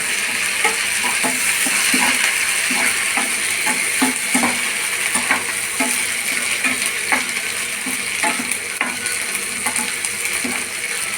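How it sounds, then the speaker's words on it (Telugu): Ginger garlic paste frying in a pan for tomato rasam, a steady close sizzle broken by regular scraping and clinking of a spoon stirring against the pan, no talking. "అల్లం వెల్లుల్లి పేస్ట్ దీంట్లో వేస్తున్నాను"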